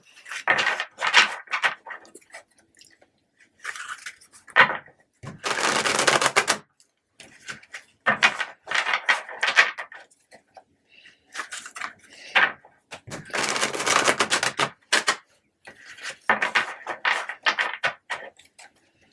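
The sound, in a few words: shuffling tarot cards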